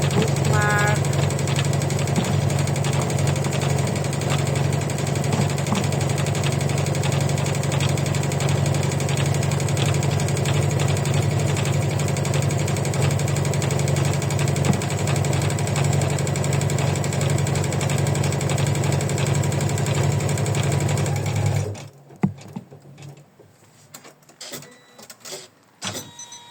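Embroidery machine stitching an in-the-hoop cross bookmark, a steady loud mechanical hum and rapid needle chatter running continuously, then stopping abruptly near the end.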